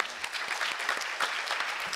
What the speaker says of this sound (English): So a round of applause for the edible community for that.